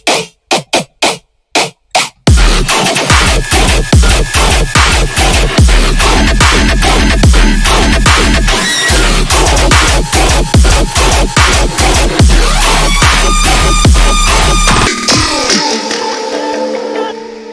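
A bass synth preset built in Serum, modulated by an LFO and shaped with comb filtering, distortion and compression, opens with a few stuttered hits, then pulses rhythmically in a loud, gritty, wobbling pattern before a tonal tail near the end.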